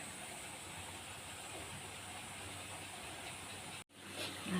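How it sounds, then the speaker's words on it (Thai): Steady broadband hiss and bubbling rumble of water boiling in a pot for chicken soup, continuous and fairly close, with a brief dropout near the end. "น้ำเดือดแล้ว"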